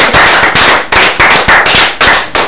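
A studio audience at a Togolese television culture program applauds loudly and close, in sharp bursts of clapping that rise and fall in quick waves, with no voices over it.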